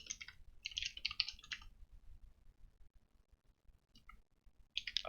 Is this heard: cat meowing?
no